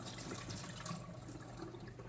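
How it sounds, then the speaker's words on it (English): Tap water runs steadily into a sink during handwashing with soap in a home kitchen while a vegetable stew is being made, a continuous close splashing stream with no talk. "And wash your hands with soap and water."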